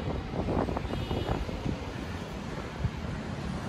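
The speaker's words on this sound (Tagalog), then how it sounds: "Napakalakas ng hangin." Strong wind buffeting a microphone on a bridge in Manila, a continuous rough rushing roar with gusty surges and faint city hum underneath, no voices.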